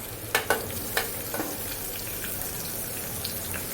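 Onions sizzle in hot oil for a drumstick and tomato rasam, a soft continuous frying hiss with a few spatula scrapes and taps near the start, fairly quiet and close.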